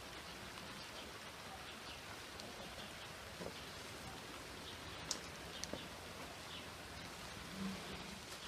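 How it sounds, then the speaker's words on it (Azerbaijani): Steady rain falling outdoors, a continuous broadband hiss of drops with a few faint isolated taps, even and moderately quiet throughout, with no voices. "Güzel yağış yağar, nur yağar,"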